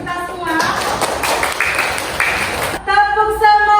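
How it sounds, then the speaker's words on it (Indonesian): A classroom of students claps together in a morning greeting, a dense burst of hand claps lasting about two seconds, then voices take over, with speech audible before and after. "Tepuk tangan untuk kita semua."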